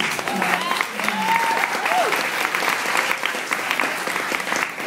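An audience applauds at a literary event introduction, a dense continuous wash of clapping from many hands, fairly loud and close, holding steady for several seconds.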